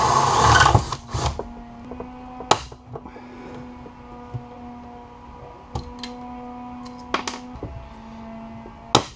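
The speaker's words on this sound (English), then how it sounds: "we'll shoot a couple of rivets in here" A pneumatic rivet gun fires a few rivets into the tip of a Cessna Citation during a restoration, giving several sharp, separate bursts and taps spread out across a quiet workshop with a faint background hum.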